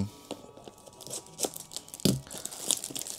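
Crinkling and rustling of a taped package being handled, with sharp crackles and tearing bursts scattered over several seconds, fairly close.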